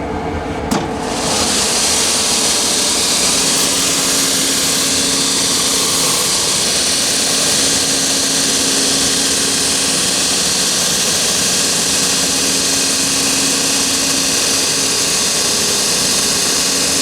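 Sanding machine fitted with fine sandpaper runs loud and steady while grinding the toe of a leather shoe at a shoe workshop, a continuous roaring whine with a faint tonal hum, with no talking.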